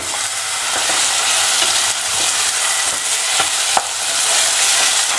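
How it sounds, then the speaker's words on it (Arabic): Garlic and onion frying together in a pan, a loud, dense, continuous sizzle heard up close, with a few light knocks of stirring, and no voices. "نضيف نفس الشيء الثوم ونخليهم يتقليو شويه حتى لين يذبل البصل والثوم مع بعضهم"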